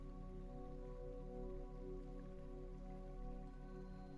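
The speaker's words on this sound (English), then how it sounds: "The rain gathers on the glass," Steady soft patter of rain on window glass, a faint, even wash with small scattered drips and a low constant hum underneath, no voices.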